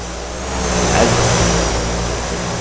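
A steady Beechcraft 1900 turboprop engine drone in X-Plane, heard from outside, swelling slightly early on and then holding a constant, even roar with a faint high whine above it.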